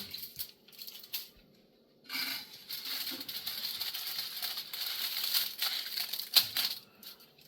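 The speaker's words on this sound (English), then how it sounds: "you can use scissors to cut it nicely around it so it looks better" Scissors snipping and crinkling aluminium foil around a hookah bowl, a close run of crisp rustles and small clicks after a brief pause.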